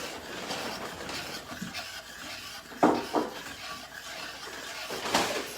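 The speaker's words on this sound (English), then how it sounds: "And now we're going to stir that demi-glaze into the white wine." Demi-glace being stirred into white wine in a cooking pan, with irregular scraping and clinking of utensil against pan, several sharper knocks standing out over a low kitchen background, no speech.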